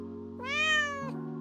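A single clear house cat meow, close and fairly soft, rising and falling over about half a second against a steady low hum.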